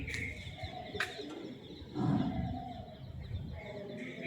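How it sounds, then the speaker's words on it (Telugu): Pigeons nesting inside a temple coo and flutter nearby, soft throaty calls with a few sharp clicks and a breathy burst in the middle, faint against a quiet, echoing room. "అది చూడండి, పక్షులు కూడా ఉన్నాయి"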